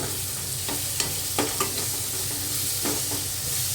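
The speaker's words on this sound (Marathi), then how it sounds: "टोमॅटोसुद्धा परतून घ्यायचं आहे आपल्याला व्यवस्थित" Tomatoes sautéing in a hot pan for veg pulao: a steady close sizzle throughout, with a few soft spatula scrapes and stirring taps on top.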